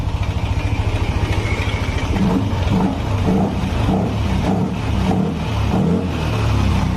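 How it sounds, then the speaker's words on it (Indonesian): A Yamaha Nmax scooter engine runs steadily at idle, close and loud, a continuous throbbing mechanical drone with a slightly noisy, rattly character that holds for the whole stretch with no talking. "motor menyala."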